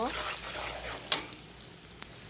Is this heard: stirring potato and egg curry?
yes